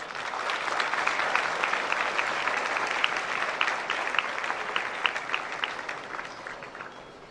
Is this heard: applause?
yes